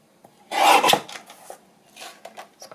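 Scrapbook paper being trimmed by hand for journal cards: one loud, rasping cut of about half a second, followed by a few fainter scraping and snipping touches, close and with no talking.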